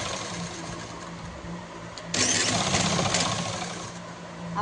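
A sewing machine stitches a salwar, its motor whirring steadily close by, then jumping louder and faster partway through as the stitching speeds up, with no talking over it.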